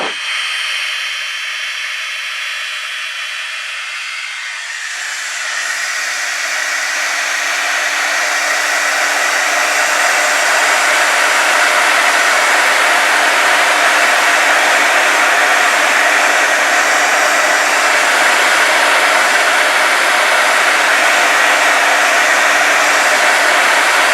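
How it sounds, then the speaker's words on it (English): A heat tool hums and hisses steadily as it heat sets embossed wax on a die-cut lantern. The airflow starts softer, then rises after a few seconds into a loud, continuous blowing close to the listener, with no talking. "So I'm going to take a second and heat set this."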